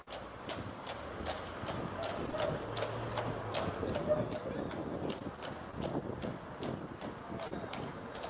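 Horses' hooves clip-clop on a steep town hill in a steady, close walking rhythm of sharp knocks, with faint voices in the background.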